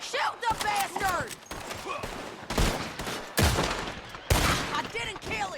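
In Red Dead Redemption 2, several sharp gunshots crack and echo one by one at irregular intervals over a shootout scene. Shouting voices and whistling background sounds mix in.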